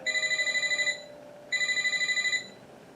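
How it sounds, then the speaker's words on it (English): A phone rings in two clear bursts of rapid, trilling electronic tones separated by a short pause, moderately loud and alone with no talking. "That's when my phone rang again."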